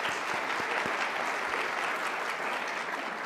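An audience applauds a singer at a Dr. King commemoration event, with dense, sustained clapping from a large crowd that stays steady and fairly loud for the whole stretch.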